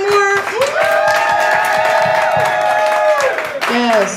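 A live hip-hop show crowd cheers and applauds for the band, a loud, sustained wash of clapping and whoops mixed with a held musical tone and voices throughout.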